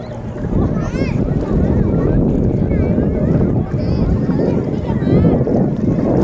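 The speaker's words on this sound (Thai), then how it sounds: "บรรยากาศลมพัดเย็นๆสบายสบาย" Cool wind blowing at a seaside shelter, a steady broadband rush and buffeting loud on the microphone, with people talking faintly under it throughout.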